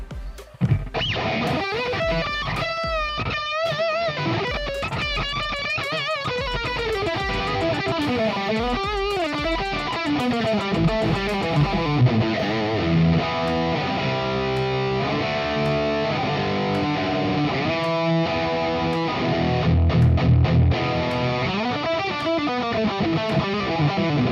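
Electric guitar played through a Nux Trident multi-effect unit running direct into a mixer with no amplifier, giving a steady run of distorted, effected chords and melodic lines throughout at an even, loud level with no talking.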